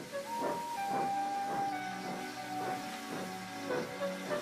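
Henry, a Tomy Trackmaster steam engine, chuffs in a steady rhythm of about two beats per second under a hissing, whistle-like tone, with no voices.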